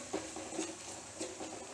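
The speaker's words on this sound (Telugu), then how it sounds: "ఒకసారి కలుపుకొని" A spoon stirs a spice powder mixture in a pot while making pepper rasam, giving a few soft scraping strokes at an uneven rhythm, close and fairly quiet with no talking.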